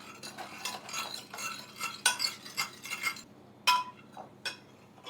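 A Thai dish being mixed with fresh garden lime, with repeated scraping and clinking of a utensil against a bowl in an uneven rhythm, close and fairly clear, with no talking.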